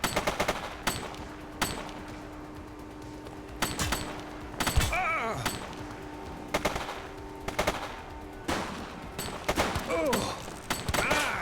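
Rapid automatic gunfire and single shots from the police video game The Precinct, loud bursts recurring across the clip in uneven volleys, with a voice talking in between.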